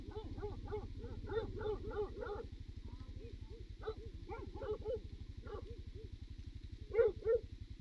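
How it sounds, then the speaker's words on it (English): Several big dogs bark in repeated bursts, some loud and close and others farther off, over a steady low engine idle, with a few sharp barks near the end. "Wow, so many big dogs."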